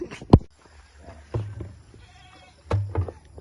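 Goats on a goat farm bleat in short, close calls, one sharp cry near the start and two deeper bleats later, with quiet farmyard background between them.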